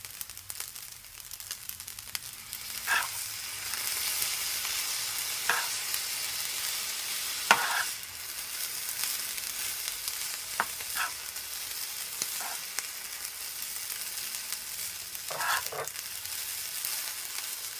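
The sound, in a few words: stir-frying shrimp fried rice with soy sauce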